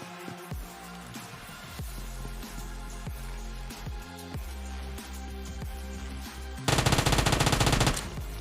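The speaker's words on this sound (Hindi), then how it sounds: "वापस फायर कर रहा, मैं इसे फिनिश कर देता हूँ" Rapid automatic gunfire in the PUBG Mobile video game, with scattered single shots and a sustained loud burst of rattling fire near the end.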